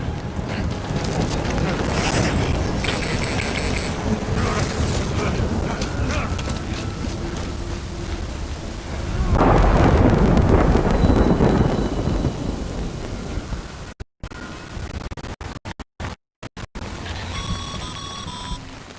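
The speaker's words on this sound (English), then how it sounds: "Good thing it was raining." Rain and rolling thunder from the video game Death Stranding, a steady dense wash of rainfall with a heavy rumbling swell midway, then broken by brief dropouts near the end.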